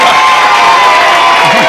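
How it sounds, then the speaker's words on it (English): Audience at a game show guess-who night crowd cheering and whooping for a winner, a loud dense wash of voices with little clapping standing out, continuous through the short burst. "How about a round of applause for Thelma Lightsey?"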